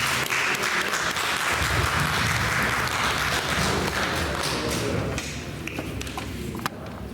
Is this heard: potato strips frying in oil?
no